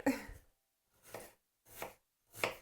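Four crisp knife chops through an onion on a cutting board, evenly spaced with short pauses between them, close and fairly quiet.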